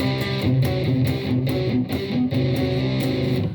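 A heavily distorted electric guitar chugs through a series of power chords starting from C in a steady rhythm, loud and thick, with no voices.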